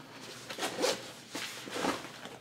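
Two quick bursts of a zipper being pulled open under a storm flap on a Hill People Gear Kit Bag V2, close and fairly quiet, separated by a short pause with no voices.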